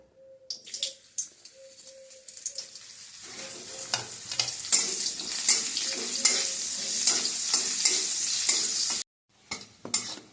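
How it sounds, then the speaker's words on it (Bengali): Loud, close sizzling as bitter gourd hits hot oil, with repeated scraping and stirring clatter, and a short break near the end. "এবার আমি করলাগুলো দেবো।"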